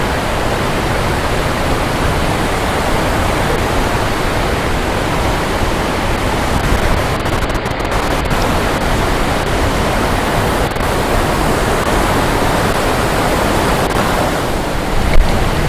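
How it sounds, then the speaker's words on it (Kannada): Devkar (Kanoor) waterfall near Yellapur, Karnataka, heard from above: a loud, unbroken roar of falling water, dense and steady throughout with no voices. "ಜಲಪಾತವನ್ನ ಮೇಲಿನಿಂದ ನೋಡ್ತಾ ಇದ್ದೀವಿ ನಾವೀಗ"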